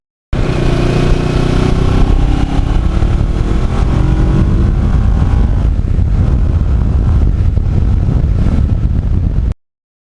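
A motorcycle engine runs steadily while the bike rides along back roads, loud and close for the whole stretch, with heavy wind rush over the microphone.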